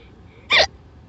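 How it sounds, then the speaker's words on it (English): A single sharp hiccup sounds once, short and fairly loud, against a faint low background hum. "but I still got hiccups"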